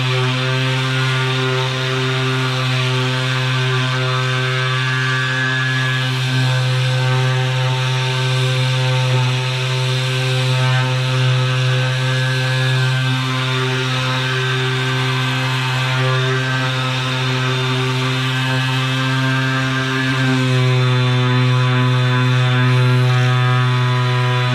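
A Bosch GEX18V-5 cordless orbital sander with 180 grit works stained wood, giving a loud, steady, unbroken motor whine that stays close and constant throughout, with no speech.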